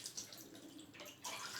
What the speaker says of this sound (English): Now I have taken a filter, adding water into this. Now we can see the water force here. The water is dropping down.